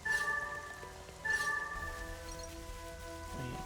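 Soft rain falls in Xenoblade Chronicles 3, a faint steady patter running beneath sustained tonal game music, with two brief brighter swells of sound near the start.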